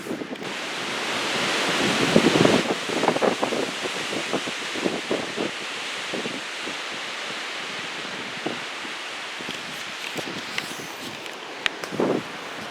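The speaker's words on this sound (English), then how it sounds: "It's very windy." Strong wind roars outdoors near woods, with gusty broadband rushing, microphone buffeting, and rustling leaves, plus scattered faint thumps and crackles as the wind shifts over about thirteen seconds.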